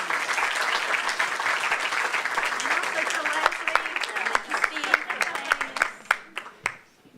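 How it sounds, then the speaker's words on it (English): An audience at a fall business forum on successful women business owners applauds the panelists, first in a full wash of clapping, then thinning to a few scattered, separate claps that fade out at the end. "let's give another round of applause for our panelists today"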